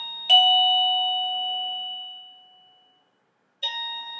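A Tecknet wireless doorbell chime rings two quick tones, a bright bing that fades slowly, then after a short pause a second strike begins, clear and close with no talking.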